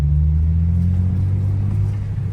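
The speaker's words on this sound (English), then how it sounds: "I know y'all hear the burbles" A BMW M4 idles with a deep, steady low exhaust rumble and faint burbling at night, loud and close, with no talking over it.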